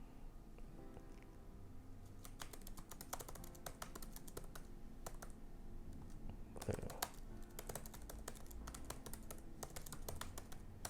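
Keys on a computer keyboard clack in quick irregular bursts, near and soft, with brief pauses between runs of keystrokes over a quiet background.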